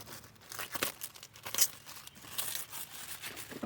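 Plastic is pulled off the headlight wiring of a Toyota Yaris (NCP93) during an aftermarket headlight install, giving close crinkling and tearing rustles in uneven bursts, with no talk.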